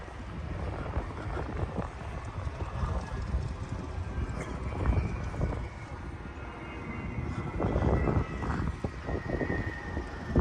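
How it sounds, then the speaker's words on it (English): A business jet flies past at the Oshkosh airshow, a loud broad roar with swelling rumble amid outdoor crowd background noise. "It's a business jet."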